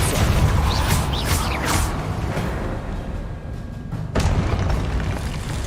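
A Confringo explosion spell cast in Hogwarts Legacy, a heavy booming blast with whooshing bursts and rumbling debris, loud and close, followed by a second sharp impact near the end.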